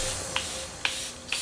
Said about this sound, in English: spray my complexion base